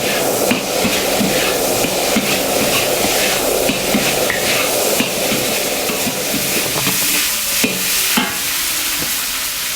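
Yaki udon being stir-fried over high heat, with loud continuous sizzling and repeated sharp scraping and clanking of a utensil against the pan, close up.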